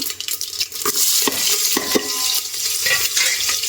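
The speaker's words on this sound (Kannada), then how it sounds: "ಕರ್ಬೇವಿನ ಸೊಪ್ಪು ಮತ್ತು ಈರುಳ್ಳಿ ಒಂದು ಈರುಳ್ಳಿ ತೊಗೊಂಡಿದ್ದೀನಿ ಅಷ್ಟೇ ಇದನ್ನು ಹಾಕಿ ಒಗ್ಗರಣೆ ಕೊಟ್ಕೊಂಡ್ರೆ" Onions and curry leaves sizzle in hot oil as a tempering for sambar while a spoon stirs and scrapes the pan, with irregular clinks over continuous frying crackle.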